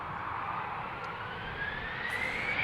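An SAS CRJ jet departs runway 36L at Amsterdam Schiphol with a steady, fairly loud roar, and a rising whine climbs gradually through the engine noise.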